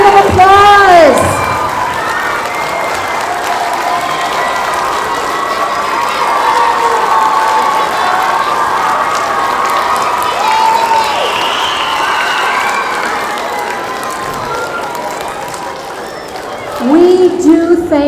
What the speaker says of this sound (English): stand up, give them a round of applause